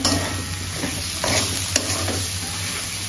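Spiced masala with cabbage and prawns stirred and fried in a pan, a loud continuous sizzle with scraping strokes of the spatula, no voices.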